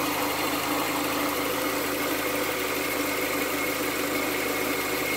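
A 1998 Honda Accord with a 2.3L engine idles steadily close by, a constant mechanical hum with slight vibration and no voices.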